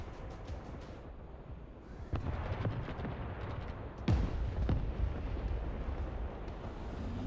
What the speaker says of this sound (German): Jetzt krieg ich schon die Artillerie auf den Kopf.